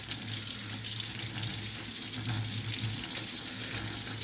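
Water runs steadily from a tap in a sink, a continuous close hiss and splash that stays even throughout with no talking.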